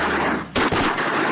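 A single shotgun blast at ducks during a waterfowl hunt in Alberta, a sharp loud crack with a brief rolling echo, cutting through steady wind noise.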